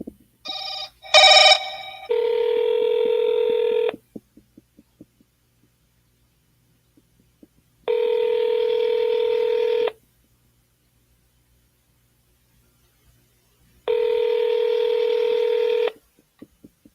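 A phone keypad beeps out a quick burst of dialing tones, followed by three long, steady ringback tones separated by silent pauses, loud and close.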